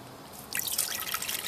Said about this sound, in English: Add some cold water.